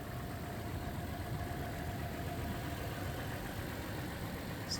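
A Toyota 4Runner TRD Pro idles quietly and evenly, a soft, steady low engine hum heard close with no talk or revving.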